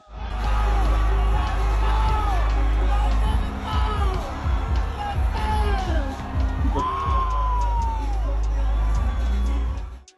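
A concert crowd cheers, whoops and yells loudly as a performer walks out on stage during a fan's performance, a dense roar with shrill shouts rising above it.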